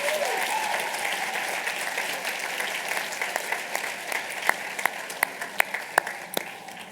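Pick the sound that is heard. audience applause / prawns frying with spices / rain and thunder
audience applause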